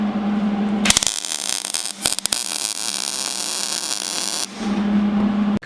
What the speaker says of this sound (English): now we'll just get it on the table and weld it up all the way